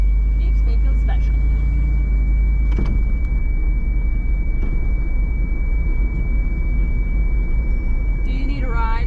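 Heavy truck loaded with feed rolling slowly onto a weigh scale, a steady loud low engine rumble with a few knocks and clunks, and people talking over it in the cab.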